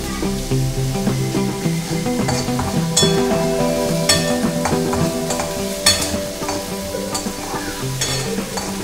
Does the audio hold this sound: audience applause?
no